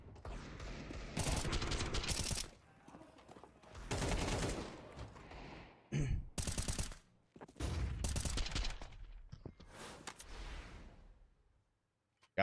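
Pistol gunfire during a Counter-Strike match between FURIA and Vitality, with loud rapid bursts of shots in several dense clusters separated by brief lulls.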